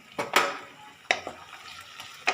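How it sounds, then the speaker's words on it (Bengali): Onions frying with ginger garlic paste in a pan, with a few sharp scraping stir strokes of a spoon over a soft background sizzle, heard close up with no talking. "এর সাথে আমি ভালোভাবে মিশিয়ে ভেজে নেব যতক্ষণ পর্যন্ত না আদা রসুনের কাঁচা গন্ধটা চলে যাচ্ছে"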